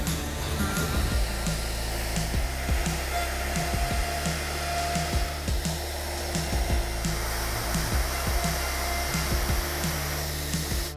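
A Bosch GOF 1250 LCE plunge router machining, a steady high-speed whine with a dense airy roar held throughout, broken by small repeated clicks and ticks as it cuts, close and continuous.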